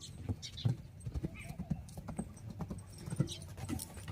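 Steady clip-clop of horse hooves on a hard surface, repeating in a quick, even rhythm at moderate distance, with faint voices in the background.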